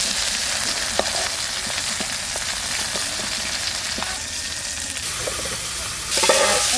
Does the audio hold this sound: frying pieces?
yes